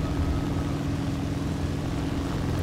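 A steady, droning propeller roar comes from a Bristol Beaufort plane's engines in the combat flight game War Thunder, loud and constant with no break, with no voices over it.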